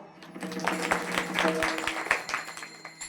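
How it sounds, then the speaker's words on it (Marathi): An audience at a Marathi kirtan discourse claps in a dense, fairly loud patter of overlapping hand claps throughout, with some voice mixed in. "जोरदार टाळ्या वाजवा."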